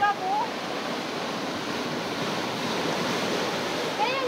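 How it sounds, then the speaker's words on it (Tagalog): Big sea waves crash and surge against the rocky shore at Stanley Ma Hang Park in Hong Kong, a loud, continuous roar of surf with wind noise and brief excited voices at the start and end. "Sabi ko, lalaki ng alon."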